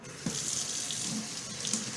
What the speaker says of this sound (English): So now you will rinse first with warm water